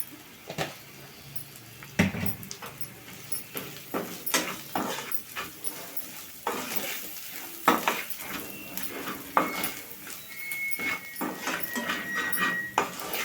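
A spoon scrapes and stirs potato curry in a pan after salt and red chilli powder go in, with irregular scraping knocks and a soft sizzle underneath, close and fairly loud.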